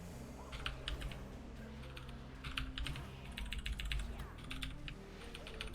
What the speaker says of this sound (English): I wonder how loud my keyboard is to you guys.